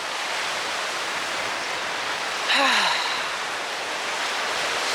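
Ocean waves wash continuously onto the shore near a pier, a steady broad surf hiss at moderate distance, with a brief higher tonal sound rising over it midway.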